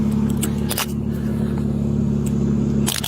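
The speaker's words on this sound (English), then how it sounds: "The car's on and I know it is." A car engine idles steadily and close throughout, a low constant hum with a few brief clicks and rattles on top and no talking.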